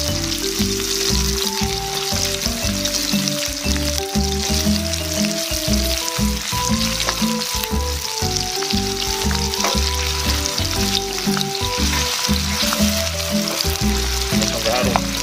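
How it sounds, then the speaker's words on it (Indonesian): Loud, continuous sizzling of onions sautéing in hot oil, with a dense crackle under a steady low rumble of stirring throughout. No talk is heard. "Bombay ditumis ya."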